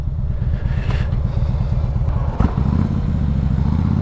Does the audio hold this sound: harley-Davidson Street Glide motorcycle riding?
yes